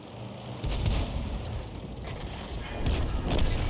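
Tank cannon fire in a tank video game with an M6, a Type 58 and a Panther. Deep booming shots sound over a constant rumbling game din, with two heavier bursts about two seconds apart.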